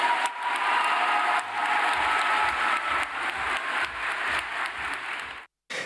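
A crowd cheers and claps loudly and continuously at a public appearance by a French education minister, a dense roar that stops abruptly near the end.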